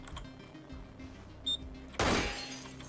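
A single sharp gunshot in the video game Receiver, aimed at a turret, cracks out loud after a quiet stretch with a faint click just before it.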